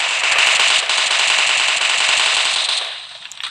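Loud rapid gunfire from the video game PUBG, where a shotgun is in use: dense continuous shots for about three seconds, then tapering to a few scattered pops.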